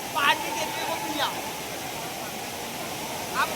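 The Tirathgarh waterfall hisses as a steady, soft wash of rushing water, with a voice speaking briefly over it a few times.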